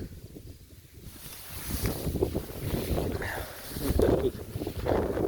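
Wind gusts roar over an open field near walnut trees, buffeting the microphone in a steady low rumble that swells stronger toward the end, with no voices.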